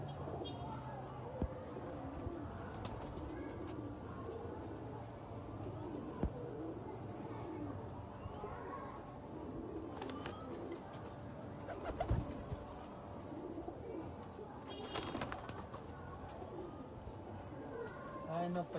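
Pigeons kept for breeding coo softly in a loft, low repeated calls among faint chirps and background noise, with a few brief knocks.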